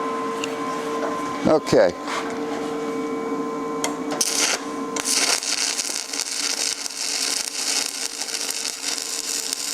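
Stick welding with a Longevity PROMTS 200i welder: a brief strike and crackle, then a steady buzzing, sizzling arc that runs on continuously, close and fairly loud, with a short spoken word near the start.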